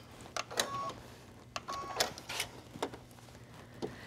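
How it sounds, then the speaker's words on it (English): A sewing machine stitches a strip of bias tape for a draped cowl neckline, running in short bursts of a few seconds each with brief pauses between, fairly close and moderately loud with no talking. "I'm just gonna sew a little strip of this."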